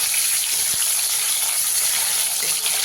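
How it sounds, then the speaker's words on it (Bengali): Chopped tomato and black cumin sizzle loudly in hot oil left over from frying parshe fish, giving a steady, close hiss with no talking. "ওই মাছ ভাজা তেলেই দিয়ে দেবো ছোটো চামচের হাফ চামচ কালো জিরে দিয়ে দেবো টমেটো কুচি দিয়ে এবারে খুব ভালো করে ভেজে নিতে হবে"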